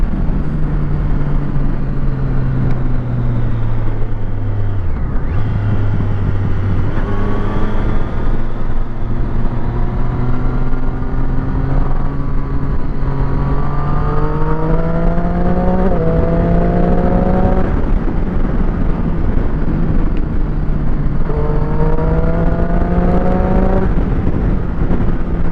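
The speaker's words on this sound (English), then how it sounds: "you're going to have cars and stuff overtaking all these cyclists" Steady car engine drone on a road with cyclists alongside, pitch climbing and dropping through repeated gear changes as the vehicle accelerates, loud and continuous with no talking.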